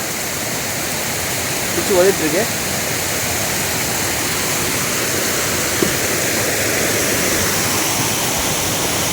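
Steady broadband rush of heavy flowing lake water after heavy rain fills the whole clip, with someone speaking briefly near the start over the roar.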